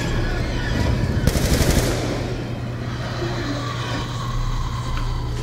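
Machine gun fire in the video game Black Ops 2, a loud rapid burst of shots near the start that gives way to lower game ambience and rumble.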